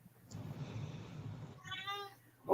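A house cat meows once, a drawn-out tonal call heard close and fairly quiet after a stretch of low background rumble.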